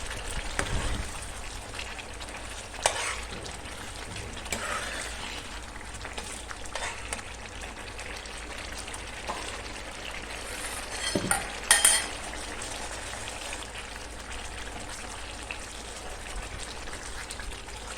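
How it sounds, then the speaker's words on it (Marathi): Chicken, curd and spices are stirred together in a pan, with a steady low sizzle and occasional scrapes and clinks of the utensil, a small burst of clatter near the end, and no speech. "दही आणि हे सगळं मिक्स करून घेऊया"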